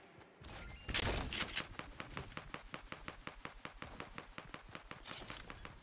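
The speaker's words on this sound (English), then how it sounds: "Can you shoot at the drop?" Rapid gunfire in the Fortnite battle royale game, aimed at a supply drop: a loud initial burst followed by a steady train of evenly spaced sharp shots, close and dominant with no talking.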